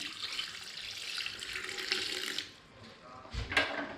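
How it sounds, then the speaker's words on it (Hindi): Water pours steadily into a cooking pot with a bright splashing rush for a couple of seconds, then stops, followed by a brief clatter nearby. "ये मेरे पास 1 कप पानी है, ये डाल देंगे।"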